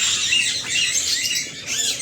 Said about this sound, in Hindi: पैरेट, बहुत ज़्यादा पैरेट हैं, पैरेट तोता।